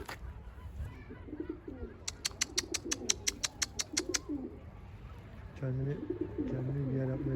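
Female Kaçak Arap pigeon cooing, with soft low coos under outdoor background noise while someone talks nearby; a series of sharp rhythmic clicks or claps also occurs midway.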